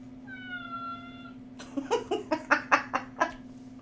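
A cat meows several times in a row, close and clear after a steady hum, with no talk over it.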